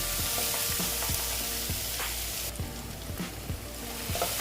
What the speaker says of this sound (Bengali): তারপরে একটু হলুদ দিয়ে দিলাম দিয়ে একটু ভেজে নিচ্ছি